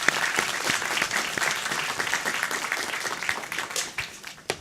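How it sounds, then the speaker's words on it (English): An audience applauds panelists at a youth tech summit held at Google, a dense, steady wash of clapping that holds for several seconds before thinning out near the end. "let's give them another round of applause"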